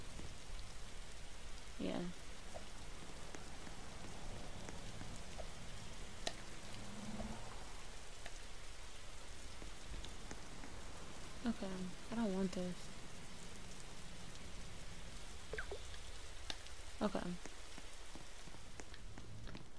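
Steady rain in Roblox, a constant soft hiss of falling drops filling the whole scene at moderate level, with a few brief clicks and bumps and a person speaking briefly over it.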